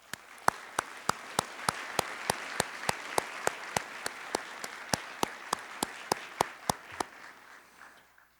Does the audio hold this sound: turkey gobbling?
no